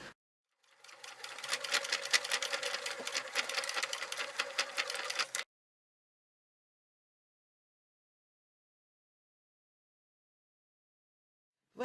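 A sewing machine runs steadily for about five seconds, stitching a fabric tab on a rectangular handbag, then stops and leaves near silence.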